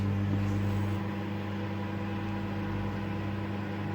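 A microwave oven running with a steady low electrical hum and constant drone, even throughout without pause, close by.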